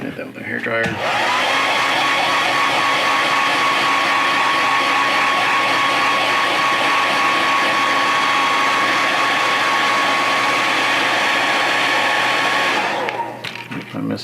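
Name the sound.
hair dryer blowing on a painted figure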